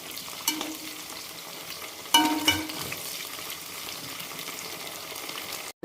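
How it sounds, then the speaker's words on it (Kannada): Onions frying in a pan for tomato rasam, a steady close sizzle running throughout with a couple of brief louder clatters of stirring near the start. "ನೋಡಿ ಈ ಥರ ಫ್ರೈ ಮಾಡಬೇಕು."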